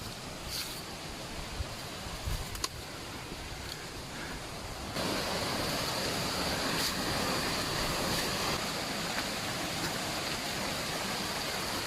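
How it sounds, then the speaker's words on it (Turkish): A waterfall on a mountain trail on Uludağ, heard as a constant roaring wash of falling water mixed with wind buffeting the microphone, growing louder partway through and holding steady to the end. "Gördüğünüz gibi şelalemize ulaştık. Birinci şelale."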